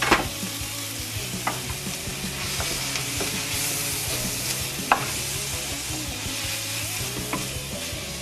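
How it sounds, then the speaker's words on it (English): Food frying in a pan with a dash of hot sauce sizzles steadily while a utensil stirs it, scraping and clinking against the pan in irregular strokes, close and continuous with no voices. "Give everything a nice stir, get it all moving, make sure everything's cooking nice and evenly."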